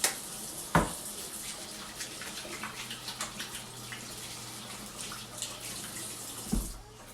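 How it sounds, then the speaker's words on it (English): Tap water running steadily into a sink while hands are washed under it, with a few soft splashes and knocks over the continuous flow. "Wash my hands really quick."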